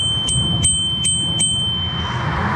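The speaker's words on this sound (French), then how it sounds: "Pour avertir de sa présence, par contre, c'est pas super fort, hein, la sonnette." A city bicycle's bell rings four quick, fairly quiet dings in an even rhythm, followed by a soft rushing of street noise as the rider moves on.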